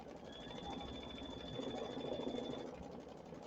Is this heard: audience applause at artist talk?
no